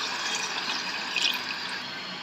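Water is poured steadily into a pressure cooker holding chickpeas and salt, making a continuous close splashing flow for a couple of seconds.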